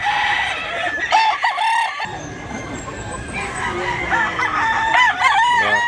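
Roosters crowing repeatedly and chickens clucking at a poultry market, several loud overlapping calls close by with steady background bustle.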